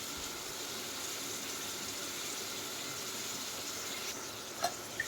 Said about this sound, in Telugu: ఒక 5 మినిట్స్ ఫ్రై చేసుకోవాలండి.